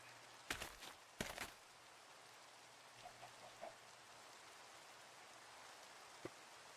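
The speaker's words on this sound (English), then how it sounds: "It's still raining, so not much I can do about that." Rain falling in a Minecraft-style survival game, a faint steady hiss of rain with a few soft footstep-like taps and thuds near the start.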